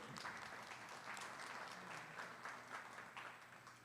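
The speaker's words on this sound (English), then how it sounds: "let's give these junior exhibitors a great round of applause on a beautiful heifer show" Spectators at a Milking Shorthorn heifer show at a state fair applaud junior exhibitors, a faint, distant patter of many hands clapping continuously and tapering slightly at the end.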